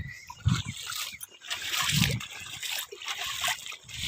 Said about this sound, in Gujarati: મોટર 2 ચાલુ કરી દીધી ને પાણી આવે ગાડીમાં